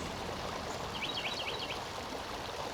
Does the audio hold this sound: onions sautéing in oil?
no